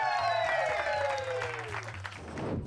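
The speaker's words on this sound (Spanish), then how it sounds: "Ahora, por favor, un aplauso para Kareli." Studio audience applause for a contestant on a Spanish-language television show, broadband clapping filling the clip under a sustained musical tone, fairly loud and steady throughout.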